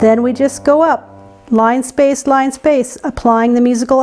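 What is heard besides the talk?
No everyday noises stand out.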